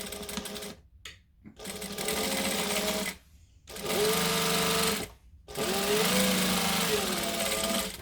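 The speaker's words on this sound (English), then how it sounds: "for the next bit, I'm actually going to stitch this on first." A home sewing machine stitches fabric pieces together for a sewing-tutorial bag, running in three loud bursts of steady whirring with short pauses between them.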